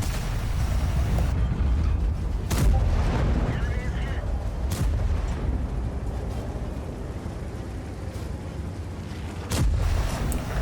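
Tank cannon shots from the WT auf E 100 Phönix in a video game, with a few heavy booms spaced seconds apart over steady engine rumble while someone talks throughout.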